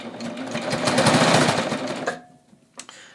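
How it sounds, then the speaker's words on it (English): A serger runs fast and loud while it sews a band onto a neckline. It hums for about two seconds, then stops abruptly, and a brief click follows. "And I'm going to start serging."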